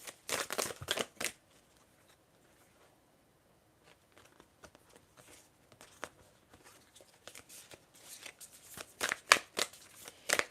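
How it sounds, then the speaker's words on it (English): Oracle cards shuffled by hand during a live tarot reading, crisp bursts of riffling and flicking at the start, a quiet pause, then renewed irregular shuffling that grows busier toward the end, close and alone. "I'm just shuffling to get a second oracle card."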